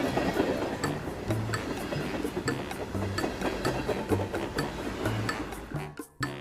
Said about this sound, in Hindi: रेलगाड़ियां उस लॉग ब्रिज के ऊपर से धीरे से जाती थीं।